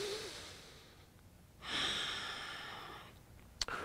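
A deep breath taken while holding a plank in an intense upper-body strength workout: a long, close, airy exhale lasting over a second, followed by a brief click near the end, with no talking.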